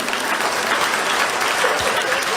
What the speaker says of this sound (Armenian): Մեր միջազգային մասնակիցներին ծափահարեք եւ ողջունենք,